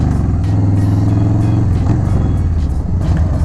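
A Harley-Davidson Softail Street Bob (FXBB) motorcycle with 8-inch risers rumbles along on a commute, its deep, loud, continuous engine drone close up, with slight shifts in pitch as it rides.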